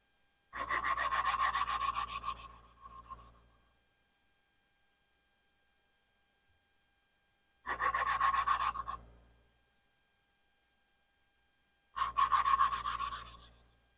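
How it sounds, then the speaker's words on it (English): A valve is lapped by hand into the seat of a Chevrolet 350 engine head, three separate gritty rasping rubbing bursts, close and isolated, with silence between them. "You pull the valve and turn it a little bit"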